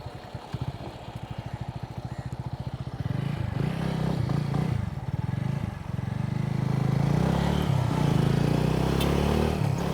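A motorcycle engine idles with a steady putter on a road in Akkaraipattu, Batticaloa, Sri Lanka, then revs up and settles into a louder, rougher drone, close by with some clattering.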